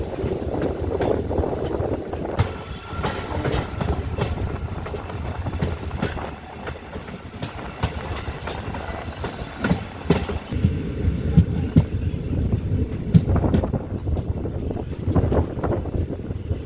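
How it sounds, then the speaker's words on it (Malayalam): Diesel train running on the Kollam to Aryankavu line, a continuous rumble and rattle of wheels and carriages with scattered clanks and wind buffeting the microphone, moderately loud throughout. "ട്രെയിനിൻ്റെ അടുത്ത സ്റ്റോപ്പുള്ള റെയിൽവേ സ്റ്റേഷനിലെത്തി."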